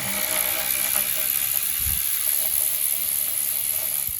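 Ratchet wrench backing out 8 mm bolts on a 2015 Jeep Grand Cherokee V6 during spark plug work, a steady mechanical clicking close by over a constant hiss, with no talking.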